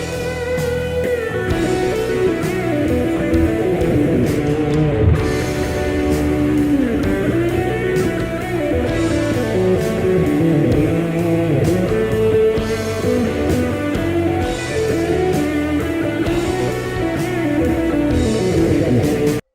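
Electric guitar plays a lead line for about twenty seconds, with bent, singing melodic notes over a steady, dense backing. No voices are heard.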